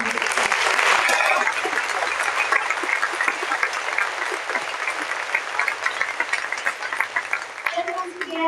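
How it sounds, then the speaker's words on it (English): A live audience at a university startup competition final applauds visiting international speakers, sustained dense clapping filling the room at steady loudness throughout, tapering only slightly near the end. "Let's give them a big round of applause."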